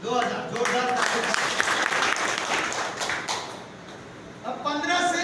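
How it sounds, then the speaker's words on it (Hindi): An audience bursts into loud applause that builds and holds for about three seconds, then tapers. Someone talks just before and right after the clapping. "जोरदार ताली।"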